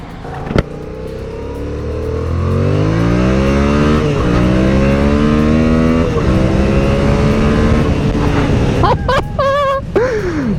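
Yamaha MT-07 naked motorcycle accelerating hard through the gears on a test ride, engine note rising steadily and loudly with upshifts, close to the rider, ending in a brief whine near the end.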